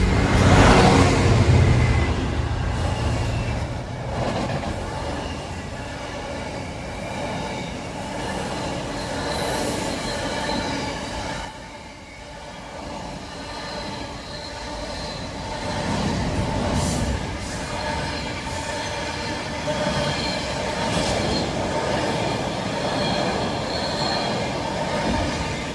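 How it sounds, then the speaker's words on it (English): Freight train hauled by a class 66 locomotive rolling past on a city line, a loud continuous roar of wagons with sustained high wheel squeal throughout. "Incoming is going to be our first freight train of the day"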